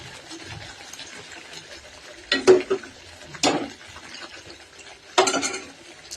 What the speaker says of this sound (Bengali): তারপর একটু ফুটে উঠলে আমি চিংড়ি মাছগুলো দিয়ে দিলাম।